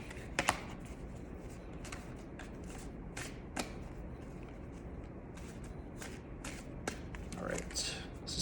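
Tarot cards are shuffled close up in a series of quick, crisp riffles and taps, fairly quiet against a soft background.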